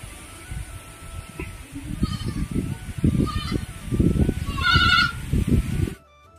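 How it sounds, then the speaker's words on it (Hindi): Several goats sheltering inside a temple during rain bleat loudly and close by, their wavering calls overlapping over a few seconds before stopping abruptly. "अभी देखो इतना सारा बकरी आ गया"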